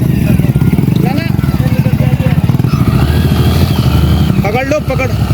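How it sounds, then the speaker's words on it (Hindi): A motorcycle engine revs loudly and up close as the bike pushes through a rough stretch of road, the throttle held steady, with people talking and shouting over it throughout. "बाइक नहीं रुकनी चाहिए, निकल गई"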